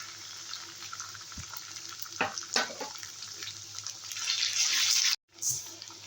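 Chicken pieces frying in a pan as ground cumin, coriander and ginger-garlic paste go in, giving a steady close sizzle with a few stirring knocks and a surge of hiss near the end before a brief cutoff.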